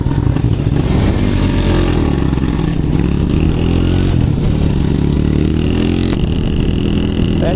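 Motorcycle engine running close and loud, a steady droning rumble with slight rises in revs and some rattling clatter, continuous for the whole stretch with no voices.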